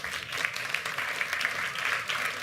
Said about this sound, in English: we can applaud them as they ease out.